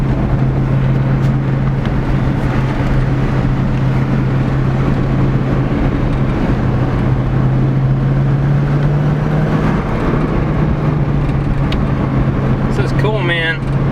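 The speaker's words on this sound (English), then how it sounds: "Never thought I'd be driving a red Corvette around with no hood or bumper on" A red C5 Corvette, driven with its hood and bumper removed, holds a loud, steady engine drone for the whole stretch, with wind rushing past and a brief change in tone near the end.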